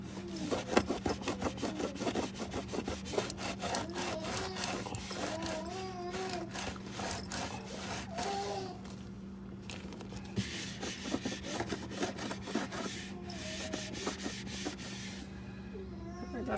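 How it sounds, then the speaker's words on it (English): Scrubbing mitt rubbing across a fridge surface in steady back-and-forth strokes, a close, continuous scratchy friction with brief pauses, no talking. "I'm going to get my scrubbing mitt here."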